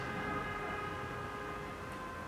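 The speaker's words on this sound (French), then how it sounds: "Oui les klaxons, les klaxons, les klaxons, les klaxons." Car horns sound outside in a sustained, overlapping blare of steady tones over a dense background rumble, loud and continuous throughout.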